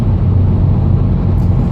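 Steady low road drone inside a Honda Accord at highway speed after a transmission rebuild, with a faint continuous whine riding over the engine and tire noise.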